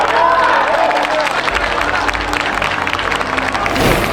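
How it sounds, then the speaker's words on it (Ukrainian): Applause and crowd noise rise from the stands at a Ukrainian stadium during a UEFA Youth League under-19 football match between Rukh and Sarajevo, a steady wash of clapping and murmur with a low rumble joining partway through. "На трибунах стадіону Сталь лунали оплески"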